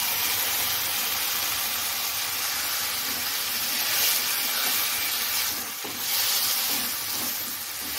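Coriander paste hits potatoes and stalks frying in a pan, setting off a steady loud sizzle and hiss close by, with a few soft stirring knocks underneath.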